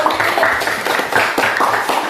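A small group claps steadily for a couple of seconds, a brisk, even patter of hands with no voices over it.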